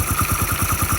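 A freshly restored engine runs on its first start, a close, rhythmic low chugging with even pulses and some mechanical clatter.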